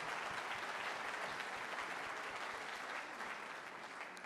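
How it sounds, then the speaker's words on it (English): Audience applause at a ragtime concert intermission marking the Grand Canyon National Park's 100th anniversary: a dense, steady wash of many hands clapping, fairly distant and even, tapering slightly near the end with no voices over it. "Let's give a round of applause for the Grand Canyon."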